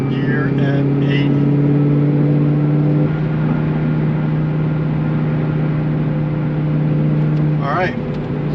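Steady low engine drone and road rumble inside the cabin of an 800-horsepower Cobra cruising in sixth gear at 80, a constant loud hum with a brief voice near the end.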